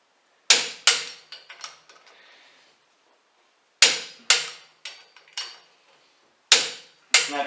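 Torque wrench on the wheel spacer nuts of a Ford Ranger T6 pickup gives sharp, loud metallic clicks in small clusters separated by brief quiet gaps, up close and with no speech.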